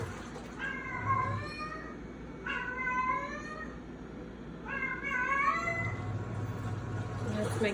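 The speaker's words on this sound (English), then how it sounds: "That's my cat screaming her head off." A cat yowls loudly in three drawn-out, rising meows spaced a couple of seconds apart, close by and indoors over a steady low hum.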